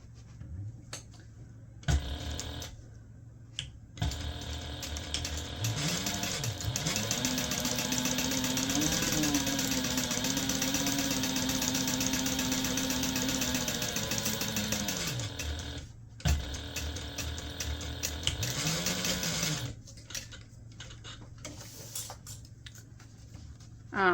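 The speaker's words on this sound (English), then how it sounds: "we're going to go ahead and sew this together using a 1/2 inch seam allowance along both sides" A sewing machine runs in a long continuous burst stitching the side seams of a large fabric gift bag, with a few shorter starts and stops before and after, the motor whirring steadily and close by.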